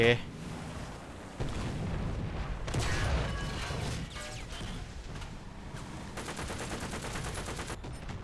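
Heavy tank cannon fire and shell impacts on a T-50 light tank in War Thunder, several loud booming blasts and crashes over rumbling engine noise, with someone talking excitedly throughout.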